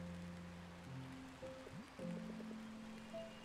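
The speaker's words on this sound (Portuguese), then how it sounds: "eu amo a chuva" Soft steady rain in the video game Until Then, a continuous low wash with faint tonal game sounds and musical notes layered on top, no talking.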